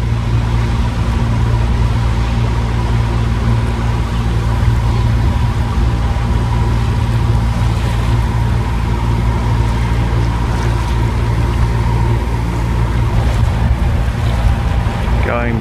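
A boat motoring out of a marina toward a fuel wharf, its engine droning steadily and loudly under wind and water wash, with no break in the sound.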